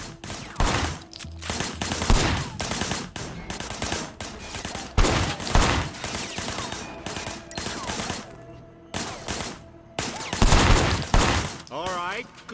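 Loud bursts of rapid automatic gunfire in a video game firefight, coming in repeated volleys with short pauses between them, plus a few sharper single shots and whizzing sounds.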